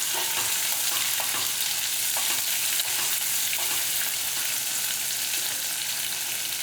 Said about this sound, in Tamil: இந்த மாதிரி பொரியும் போது பாருங்க நல்லா பொறிஞ்சிருச்சு